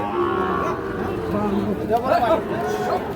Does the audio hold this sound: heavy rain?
no